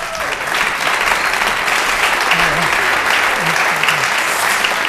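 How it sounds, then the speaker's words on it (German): Warm audience applause greeting a comedian at a cabaret show, many hands clapping steadily and loudly, with faint voices underneath. "jetzt ein wohlgemeinter, aber nicht zu überschwänglicher Applaus"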